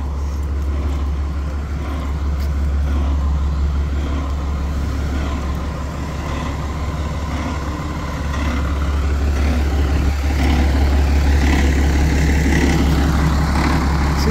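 A heavy engine idles steadily at a campus bus stop, a continuous low rumble holding throughout with faint background ambience and no talk.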